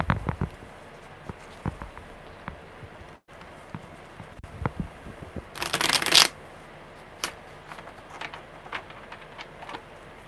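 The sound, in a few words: shuffling tarot cards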